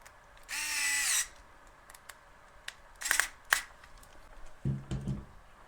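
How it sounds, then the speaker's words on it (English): A power drill screws an LED afterburner mount into the motor of an EDF RC jet, a loud whirring burst near the start followed by a few short sharp clicks and knocks, close and without talk. "So we're going to screw it in tight."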